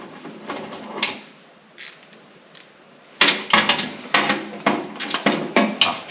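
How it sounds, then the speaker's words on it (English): Bolts are loosened and removed from a Massey Ferguson 235 tractor with a wrench, a series of close metallic ratcheting clicks and clanks, sparse at first and then rapid and louder. "Let me first take the bolts off."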